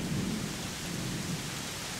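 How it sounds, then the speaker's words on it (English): A low, distant rumble of thunder rolls beneath steady rain hiss, faint and continuous throughout. "A lot of thunder, lightning"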